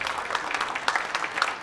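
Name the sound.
round of applause at city council meeting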